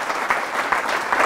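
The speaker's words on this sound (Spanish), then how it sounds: "Este aplauso a la palabra del Señor" Applause from a church congregation, a short burst of dense, even clapping heard at moderate volume, with no other sound standing out.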